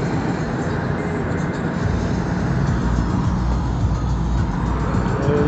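Steady road and engine rumble from inside a car driving on Moscow's MKAD ring road, a continuous dense drone with a faint whoosh of passing traffic and no talk.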